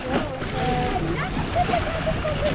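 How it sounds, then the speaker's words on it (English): Small waves splash and slosh onto the shore at DeSoto National Memorial in Bradenton, Florida, close and repeated under steady wind noise on the microphone. "let's watch a couple of waves splash ashore here."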